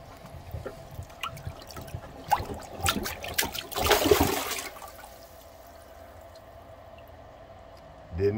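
A plunger works a clogged, overflowing toilet with water in the bowl, giving splashy sloshing and gurgling bursts that build through the middle of the clip before settling into a quieter watery trickle.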